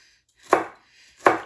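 A knife chops peppers on a cutting board for baked barbecue beans, two crisp, close, evenly spaced thuds with nothing else heard.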